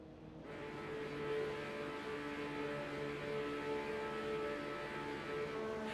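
Porsche Cup race cars pull away from the start at Suzuka in a racing video game: a thick, loud engine roar swells within the first half second and holds steady as the pack accelerates together.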